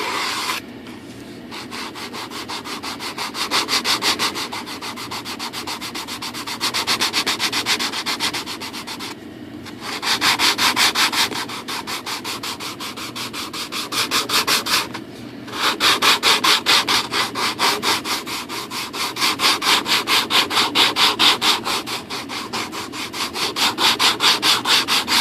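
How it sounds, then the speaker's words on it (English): Hand sanding on a model Airbus A380 rudder part, with rapid back-and-forth scratchy strokes in close, steady bursts separated by brief pauses, going on for about twenty-five seconds with no talk. "I think we got to try a little more sanding first."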